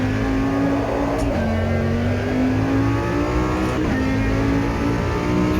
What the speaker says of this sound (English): It's got a nice throat to it when you downshift though.